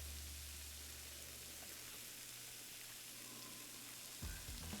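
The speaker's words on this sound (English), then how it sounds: "So deep frying time." French fries deep frying in the restaurant game Chef Life, a quiet, steady hiss of bubbling oil with a low hum underneath and a brief bump near the end.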